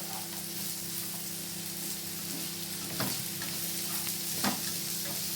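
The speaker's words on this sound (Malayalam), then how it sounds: "ഇതിലിട്ടൊന്ന് ഇളക്കുക നന്നായിട്ട്" Coconut slices and masala stirred in a hot pan for a Kerala chicken fry, a continuous close sizzle with occasional scraping stir strokes, no speech.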